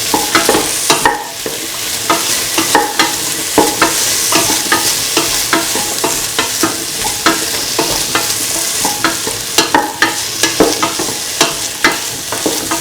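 Ivy gourd, tomatoes, green chilies and shallots sautéed with onion in a pan for mung bean rice, loud close sizzling with rapid, repeated scraping strokes of a spatula throughout and no voices.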